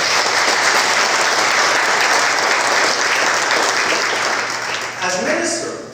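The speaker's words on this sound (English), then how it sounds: "please give her a round of applause." Sustained, loud audience applause at an aging-with-dignity conference, a dense wash of many hands clapping that holds steady before fading as a voice begins to speak near the end.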